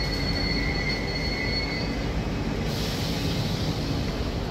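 A Paris Métro train runs through Châtelet station on Line 1, a steady loud rumble of wheels and carriages with faint high squealing tones from the rails, and no voices over it.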